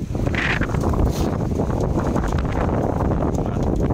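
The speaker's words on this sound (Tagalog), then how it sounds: "Mahangin mga boss. Pasensya na po, mahangin." Steady, loud wind buffeting the microphone, a low rumbling roar that runs continuously with no pauses.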